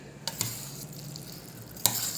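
Set curd made from whole milk being stirred into cooked rice in a vessel, a few soft wet clicks and scrapes of the spoon over a quiet background, with no voices.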